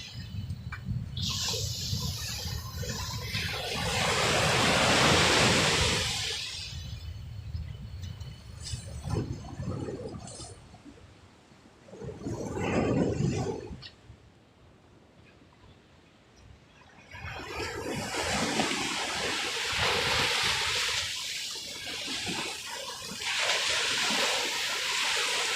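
Rushing water from a swollen river during a typhoon, with broad gusty roars that swell and fade in waves, including a quieter lull midway, and no one talking.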